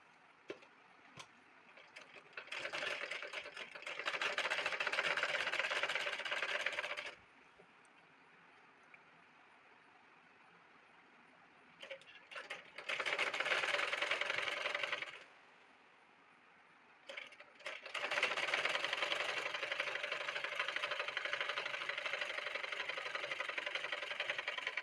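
A sewing machine stitches a V-shape frock sleeve in three separate bursts of rapid mechanical whirring. Short quiet pauses with faint clicks fall between the bursts.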